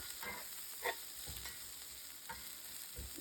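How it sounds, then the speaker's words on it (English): Onions frying in oil on low heat in a home kitchen, giving a faint, steady sizzle broken by a few soft stirring scrapes and clinks. "The first thing I do is fry some onions."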